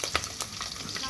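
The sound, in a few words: green chillies frying in hot oil in a pressure cooker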